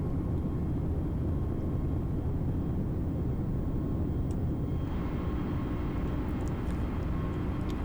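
Airbus A320neo airliner climbing out of Las Vegas in Microsoft Flight Simulator, a steady, loud broadband engine and airflow roar that holds constant throughout with no talk.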